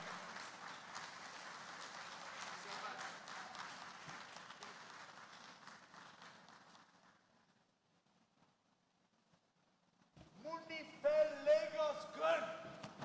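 A conference audience applauds, dense clapping that fades out to near silence, after which a voice speaks up loudly over the room.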